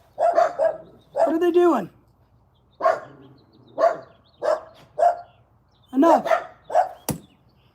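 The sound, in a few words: dogs barking at people by the fence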